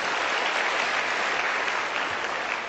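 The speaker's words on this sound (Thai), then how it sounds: "ปรบมือให้ผลิตภัณฑ์เอายองด้วยนะครับ" A crowd at a Thai business seminar applauds, thick continuous clapping held at an even, fairly loud level from start to finish.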